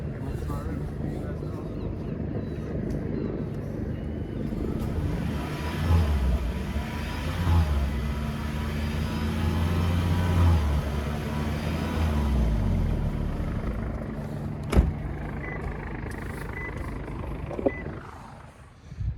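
A decatted 2013 Toyota Prius with no exhaust revs its engine in several swelling bursts that rise and fall over a steady idle drone, with a sharp knock near the end.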